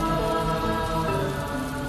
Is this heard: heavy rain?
yes